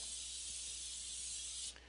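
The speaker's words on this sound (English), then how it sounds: "First, you spray the grill pan" A continuous hissing spray of aerosol cooking spray onto a warm grill pan, steady and close for nearly two seconds before cutting off abruptly.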